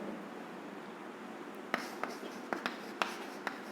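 Pen writing on paper produces soft scratchy strokes with a few distinct taps, close and quiet over a steady background hiss.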